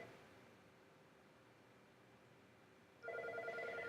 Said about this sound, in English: Sorry, ignore my phone right now.